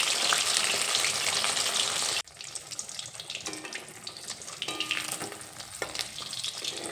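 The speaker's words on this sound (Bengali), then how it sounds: "মাছের দুই সাইড আমি খুব ভালোভাবে ভেজে নিয়েছি।" Fish frying in hot oil in a wok, a steady loud crackling sizzle that drops abruptly partway through, then continues as softer, uneven spattering with occasional clinks.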